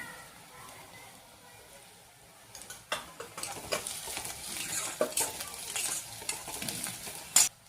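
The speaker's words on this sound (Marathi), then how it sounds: "कांदा छान परतलेला आहे, आपण त्यात थोडा हिंग घालूया" Onions sautéing in a pan as asafoetida is added, with a soft sizzle and the irregular scrape and tap of a stirring spoon that grows busier partway through, heard up close.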